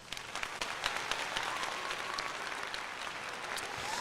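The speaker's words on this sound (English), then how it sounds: "Let's give you a round of applause." Steady, dense applause without talk over it, sustained at an even level for the whole stretch.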